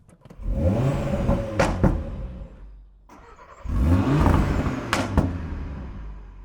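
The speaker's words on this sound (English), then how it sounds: "I give it a bit of a blip on revs as well, and then you get some nice pops and bangs." A 2025 Audi RS3's five-cylinder engine revs hard twice, each blip trailing off into sharp exhaust pops and crackles, loud and close with a brief lull between bursts.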